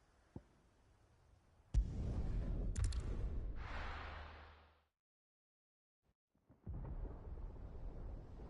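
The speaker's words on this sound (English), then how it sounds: "Sounds like thunder." A heavy thunder crash in the Final Fantasy XVI video game, starting with a sharp crack and rolling into a long, loud low rumble that fades out, then a second rumble builds after a brief silence.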